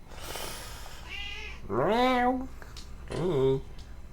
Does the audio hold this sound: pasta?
no